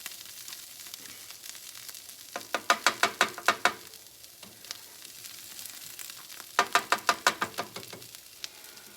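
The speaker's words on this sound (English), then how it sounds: "I think it gives it a better taste to fry the onions and get the nice fried taste" Onions fry in a pan under a low, steady sizzle, with two bursts of quick, rhythmic scraping strokes from stirring, each about a dozen strokes long, and no speech.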